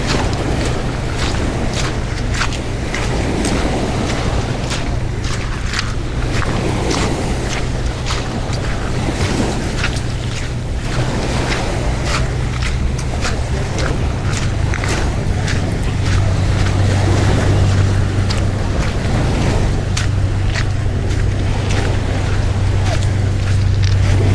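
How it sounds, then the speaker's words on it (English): Waves wash steadily onto the rocky shore at Alki Beach in West Seattle, a loud continuous surf roar with wind buffeting the microphone, no talk. "Now I'm just gonna walk along the beach here."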